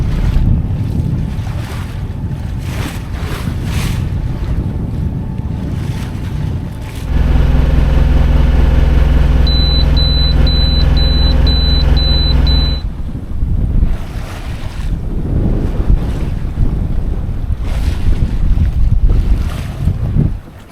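Inboard engine of the sailboat Triteia droning steadily while motoring out from the dock toward Gili Air, Lombok, a loud continuous low rumble with wind and water noise around it and a short run of high electronic beeps partway through.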